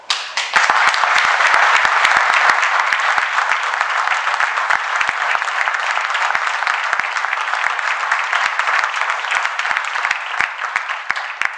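Dense, loud audience applause filling a hall in Portogruaro, steady and sustained throughout with no voices over it.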